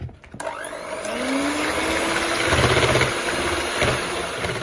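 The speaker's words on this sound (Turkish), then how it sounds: "Şöyle bir 4-5 dakika çırpacağım." An electric mixer whips pastry cream powder into lukewarm water, giving a loud, steady whirring hum close by that runs unbroken through the whole stretch, with no voices.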